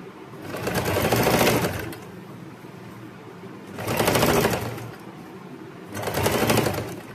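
A sewing machine top-stitching a kurti runs in three loud bursts of rapid, rhythmic needle clatter, each about a second and a half long, separated by quieter pauses.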